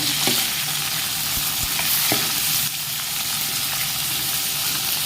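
Fish frying in a pan on a home stove gives a loud, steady, close sizzle that runs the whole time, with a few faint clinks of a utensil against the pan and no talk.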